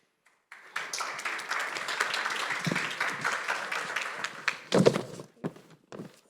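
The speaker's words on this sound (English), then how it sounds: "give them a big applause" An audience applauding panelists at a government technology conference, moderate clapping that starts after a brief silence, holds for several seconds, then thins into a few isolated claps and taps.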